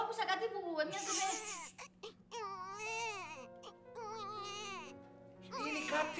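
A baby cries in a series of rising and falling wails over about six seconds, close and fairly loud, with brief gaps between the cries.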